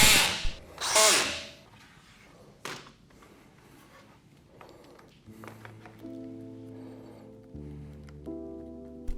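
A power drill drives screws while a piano stand is assembled: a couple of loud whirring bursts at the start, then quieter, intermittent drill hums and clicking ratchet-like mechanism sounds close by.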